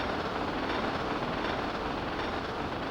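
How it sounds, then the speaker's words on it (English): A train rolling on switched tracks in Star Fox 64 Macbeth, a steady, dense rumble of rail noise without distinct breaks, loud and continuous, with no talk. "This switches the tracks for the train"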